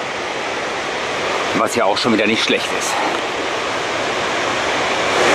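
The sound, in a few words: Espeland waterfall in Norway, roaring water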